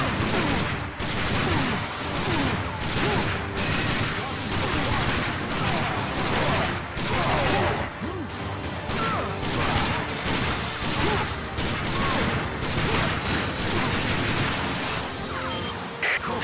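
Continuous gunfire and impacts from the light-gun shooter Time Crisis 4: loud, rapid shots mixed with crashes and small explosions, going on without a break.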